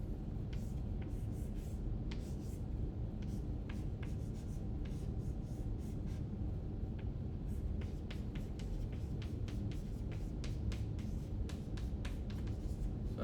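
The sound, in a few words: drawing on a board while explaining a chemistry reaction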